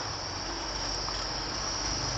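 Crickets on a cricket-breeding farm chirp in a dense, continuous, shrill chorus that holds steady and close throughout.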